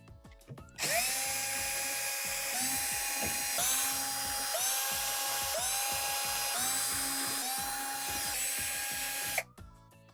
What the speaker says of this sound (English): we're going to go ahead and remove all the Torx screws around the perimeter of the back panel